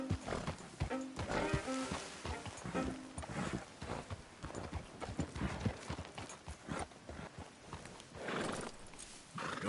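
A horse whinnies and snorts over steady clip-clopping hooves in the video game Red Dead Redemption 2, close and loud, with a busy, slightly artificial game-like mix throughout.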